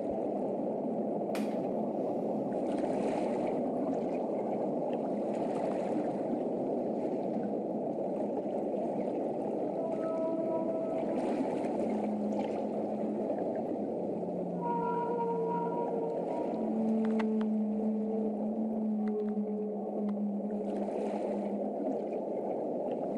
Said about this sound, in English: Bowhead whales that were captured during the Arctic travel of Archimedes.